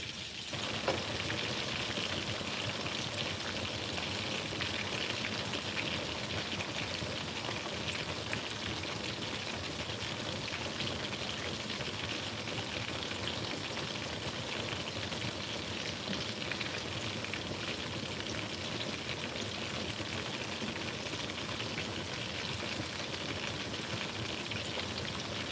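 Food fries in oil in a pan, giving a steady, even crackling sizzle that runs unbroken the whole time with no talking over it.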